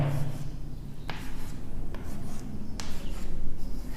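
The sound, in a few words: writing on a board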